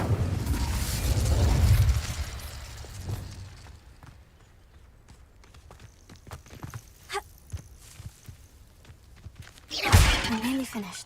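A fire spell cast in the video game Hogwarts Legacy, a loud fiery whoosh and burst near the end after quieter rustles and footstep-like taps, with an earlier rumbling blast at the start.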